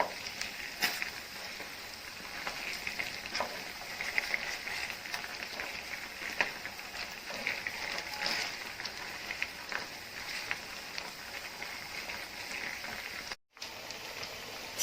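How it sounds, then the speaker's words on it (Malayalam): Chicken pieces fry in oil in a pan with a faint, steady crackle and scattered pops, low in level and continuous throughout, with a brief drop-out near the end. "ഇനി ഈ സൈഡ് കൂടി നമുക്കൊന്ന് ഫ്രൈ ചെയ്തെടുക്കാം."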